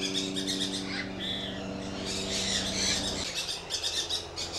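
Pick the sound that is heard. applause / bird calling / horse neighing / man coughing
bird calling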